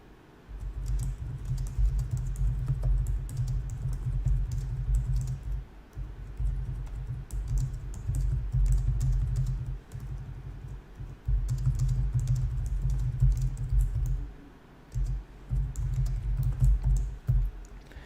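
Steady typing on a computer keyboard, rapid clicking keystrokes in continuous bursts with a few brief pauses, close and fairly loud, with no talking.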